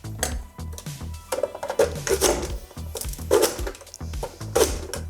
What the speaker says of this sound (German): als nächstes nehmen wir uns dann die Zwiebel vor. Die würfeln wir dann auch.